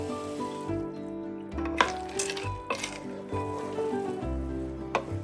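Frozen peas cooking in a pan: a soft, steady sizzle with occasional stirring scrapes and light clinks of utensils against the pan, fairly close, with no talking.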